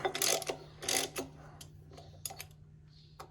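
A ratchet tightens a bolt on a John Deere B tractor in short bursts of rapid clicking, with brief pauses and a few lighter ticks, close and fairly quiet, with no talking.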